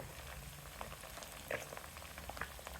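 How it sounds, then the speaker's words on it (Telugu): Curry leaves sizzle in hot oil during the making of a small fish curry, a soft, steady crackle with scattered pops and spits, fairly quiet and close. "వేగుతుంది కదా, కరివేపాకు వేసేసుకోండి"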